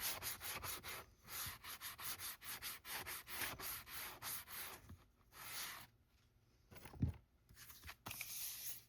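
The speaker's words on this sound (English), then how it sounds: "I'm going to scuff it" Rapid back-and-forth scuffing strokes rub over an art journal cover, close and steady for about five seconds, then pause and resume in shorter bursts with a soft thump.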